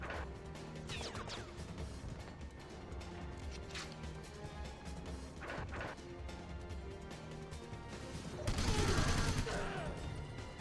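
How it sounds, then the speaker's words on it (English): Explosion and gunfire in 007: Everything or Nothing on PS2, a steady clatter of shots and impacts under game noise, ending in a loud, broad blast near the end. "I have no idea where that explosion came from. Maybe it was a grenade."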